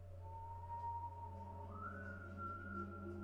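Someone in a scene from The Walking Dead season 8 whistles a steady, clear tune that holds one note and then steps up to a higher one, heard over a low background hum with no talking.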